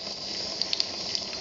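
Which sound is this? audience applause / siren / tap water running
tap water running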